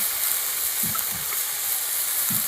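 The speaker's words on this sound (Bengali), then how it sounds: "আপনারা যেমন ঘরে মশলা কষান ঠিক সেরকম করেই আপনারা ঘরে মশলাটাকে কষিয়ে নেবেন" Ground spice paste (masala) with tomato frying in a pan for an egg curry, a steady close sizzle with a few soft stirring scrapes, no talk.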